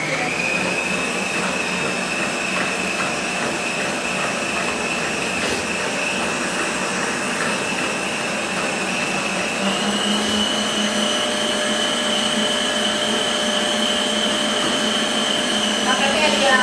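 Stand mixer beating room-temperature butter and refined sugar for a gateau basque, a steady, loud motor whir that runs continuously throughout, with a voice talking beneath it.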